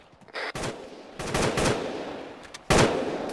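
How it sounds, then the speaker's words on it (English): Enemy gunfire in a military shooter video game: bursts of automatic weapon fire crack out in three loud volleys, with quieter scattered shots between them. "Yeah, that's them shooting now."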